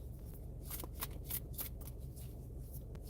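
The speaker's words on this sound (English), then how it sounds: "These cards are feeling well shuffled." Tarot cards riffled and shuffled by hand, a steady papery flutter of repeated card bursts, close and fairly quiet with no talking.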